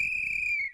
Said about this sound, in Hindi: ये सीटी चौकीदार ने नहीं बजाई थी